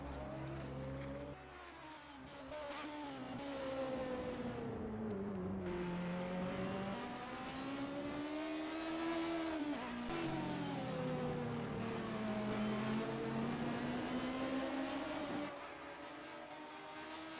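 A Lexus race car in a racing video game of a Road America endurance event screams past with a throaty engine, the pitch rising and falling through gear changes and revs, loud and close with no talk.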